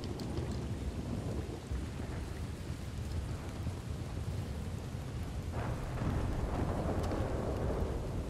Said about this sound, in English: Just rained non-stop.